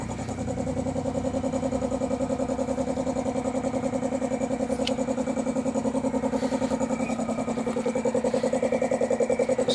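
A Mitsubishi 4D56 diesel engine runs steadily for about ten seconds, a continuous, even, throbbing drone that stays close and fairly loud without any clear revving, and no one speaks over it.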